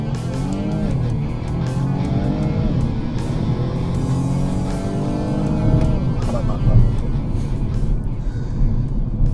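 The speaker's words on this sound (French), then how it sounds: "Donc on maintient le frein avec le pied gauche et on accélère avec le pied droit." A BMW M235i Gran Coupé launches hard from a standstill, its engine note climbing in repeated rising sweeps broken by gear shifts, loud and close.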